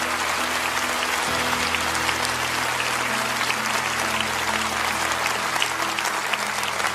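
Church congregation applauding during a sermon gathering, a loud, continuous roar of clapping that stays even from start to finish, with a low sustained hum beneath it.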